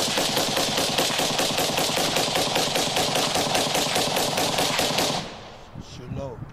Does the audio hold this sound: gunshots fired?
yes